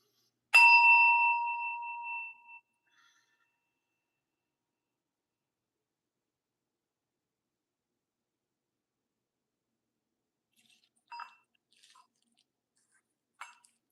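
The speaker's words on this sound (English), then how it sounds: "clear the energy a little bit with the sound bowl" A single bright struck tone rings out and fades over about two seconds, followed by long silence and a few faint, brief handling sounds.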